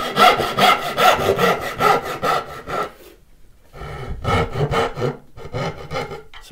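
A hand saw cuts straight down a knife line in wood for dovetails on a flower box, loud rhythmic rasping strokes close by, pausing briefly about midway before the quick back-and-forth sawing resumes.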